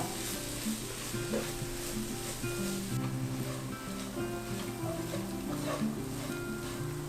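Vegan Korean-style meat sauce stir-fries in a pan, giving a steady, close sizzle with soft scraping and stirring throughout, no speech over it.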